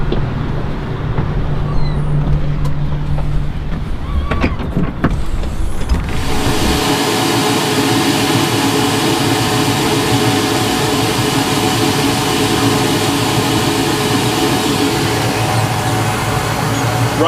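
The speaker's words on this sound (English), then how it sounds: "start the motor up for you," The inboard engine of a 2000 Sea Ray 260 SunDancer boat, hatch open, cranks and catches after a few seconds of quiet, then settles into a loud, steady, close-up idle rumble.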